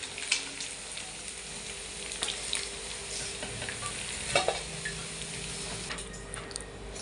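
Chicken manchurian pieces deep fry in hot oil with a continuous crackling sizzle and occasional louder pops and clinks of a utensil, steady throughout, with nobody speaking.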